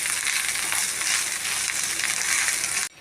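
A mango chutney mixture sizzles and fries steadily in a hot pan, a bright continuous crackle that stays even throughout and cuts off abruptly just before the end.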